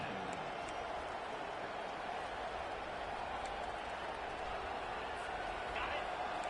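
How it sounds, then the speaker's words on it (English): A large stadium crowd at a Texas A&M football game roars steadily throughout, a dense wash of cheering and noise with no pauses, heard from within the stands. "This crowd bringing the energy and noise early."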